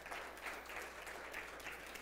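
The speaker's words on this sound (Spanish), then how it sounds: "Un aplauso." Faint, distant applause from a church congregation, an even patter of many hands clapping throughout.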